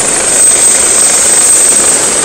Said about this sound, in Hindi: दो दो हेलीकॉप्टर